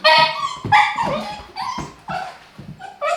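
A cheeky cavapoo puppy yips and barks in several sharp, high bursts mixed with whiny whimpers, close and fairly loud, with short pauses between cries and no talk.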